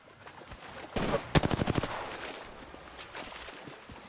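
Rapid burst of gunfire in a multiplayer shooter video game, several quick shots in a tight cluster with a louder single crack just before, over steady background game noise.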